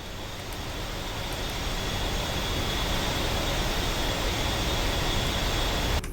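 An aircraft engine running steadily in the combat flight simulator DCS (Digital Combat Simulator), with the aircraft ready to taxi at an airfield: a loud, constant, even roar lasting several seconds, heard alone without talk.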